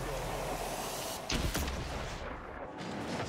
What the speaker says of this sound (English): That's a pretty cool goal explosion.